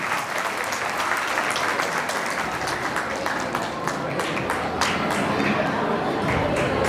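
Dense, steady applause from a crowd at an Adivasi Bhil community gathering in Gujarat, continuous clapping that fills the space at moderate level throughout.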